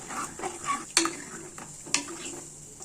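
A spoon stirs chicken gravy in a pot, with soft swishing and two bright clinks of metal against the pot's rim, close and alone.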